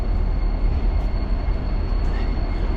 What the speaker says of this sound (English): We have the trains going right through the middle of downtown.